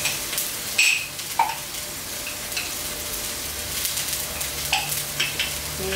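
Lemongrass and galangal fry in hot oil for rendang, cooked until crisp, with a continuous close sizzle broken by a few sharp scrapes and clinks of a stirring utensil in the pan.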